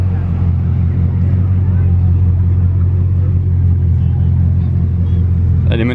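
A Monaco-registered Bugatti Chiron Sport rolls up at a rally gathering near the casino square, its deep, steady engine rumble continuous and loud throughout, with crowd chatter underneath.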